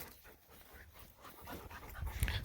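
A dog pants after fetching a shed antler, giving quick close breaths in a rapid, uneven rhythm that build louder toward the end.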